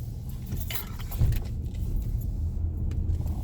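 A car drives along, its low rumbling road and engine noise steady and close throughout, with some light rattling or jangling inside the cabin.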